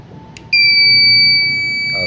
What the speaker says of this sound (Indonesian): kemudian ada beep panjang, itu artinya yang bermasalah pada modulnya ya.